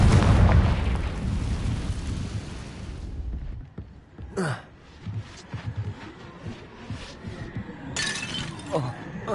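Confringo cast in Hogwarts Legacy: a loud fiery blast with crackling debris that fades into scattered sharp impacts and rattles, with a couple of bright bursts and a voice faintly underneath.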